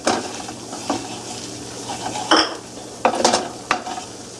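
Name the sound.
sautéing mushrooms, onions and garlic in a pan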